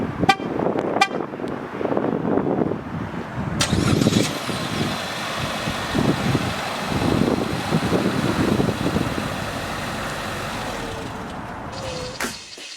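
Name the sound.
2020 Chevrolet Trax engine startup and exhaust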